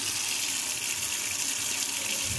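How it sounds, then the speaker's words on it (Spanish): Steady stream of water running from a leaking single-lever kitchen mixer faucet, a continuous, even hiss close by with no voices over it. "tengo que arreglar este monocomando de cocina que pierde un montón de agua por acá abajo"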